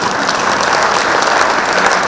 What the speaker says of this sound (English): everybody should give a round of applause for just that